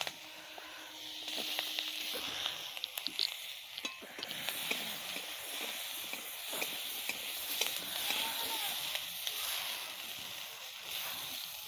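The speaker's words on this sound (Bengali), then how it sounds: "এবার টমেটোটা ভেজে নেবো।" Green tomatoes fry in a pan with oil and no salt, giving a steady, close sizzling hiss. Scattered pops and crackles run through it continuously.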